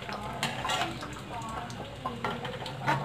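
Sweet mathri dough pieces frying slowly in hot oil, giving a steady soft sizzle with occasional stirring and clinks of a utensil against the pan.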